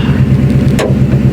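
A Ford Mustang Boss 302 engine with a Lund tune idles with a steady low rumble and even, repeating pulses, close and continuous, with a brief hiss partway through.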